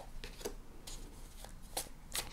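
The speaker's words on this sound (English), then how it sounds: "Shuffle one more time." A deck of tarot cards is shuffled in several soft, rapid bursts of papery riffling. The sound is faint and close, with no one speaking.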